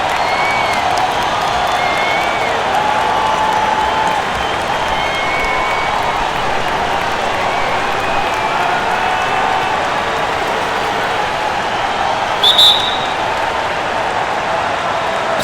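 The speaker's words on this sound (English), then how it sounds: "This Houston crowd hoping to watch their Rockets come out on top." A Houston arena crowd in the NBA 2K16 basketball game roars and applauds steadily before a Rockets versus Spurs tip-off, a loud, dense wash of cheering and clapping that continues unbroken throughout.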